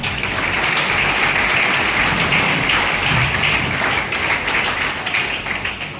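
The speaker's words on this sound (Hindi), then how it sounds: "शिक्षकों के लिए जोरदार तालियां बजा दीजिए" A school audience at DAV Model School Suliyari gives loud, steady, dense applause for the teachers during a ceremony. The clapping is close and continuous, with no pause.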